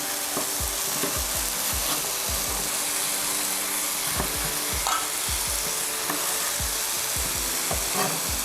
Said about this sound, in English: So I'm just gonna go around and chop off the sides of these peppers.